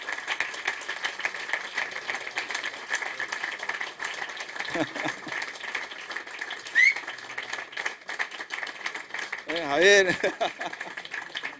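A jazz concert audience claps in a sustained patter under someone speaking into a microphone, with a few brief tonal flourishes rising over the applause.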